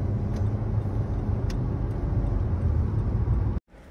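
A car driving along a road, heard from inside as a steady, loud engine and road rumble that continues throughout before cutting off abruptly at the end.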